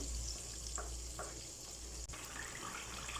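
Egg masala curry fries in a pan with a steady, soft sizzle and faint crackle throughout, joined by a couple of brief stirring scrapes.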